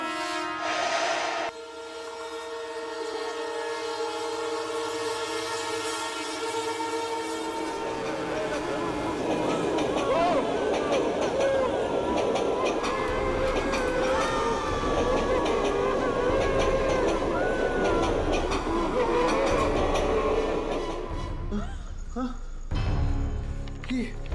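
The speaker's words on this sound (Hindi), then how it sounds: "ये ट्रेन रुकी नहीं।" A train rolls past without stopping, a long steady roar with horn-like tones rising and holding before cutting off near the end, loud and close.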